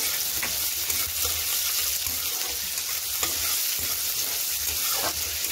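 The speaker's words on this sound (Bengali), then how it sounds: "একদিকে মাছ ভাজা হচ্ছে, এদিকে অপর প্রান্তে আরো একটা কড়াই বসিয়ে দিলাম, তাতে একটু পেঁয়াজ দিয়ে দেবো" Fish frying in oil in one wok while onion goes into a second wok and gets stirred, giving a steady close sizzle with scraping stir strokes throughout.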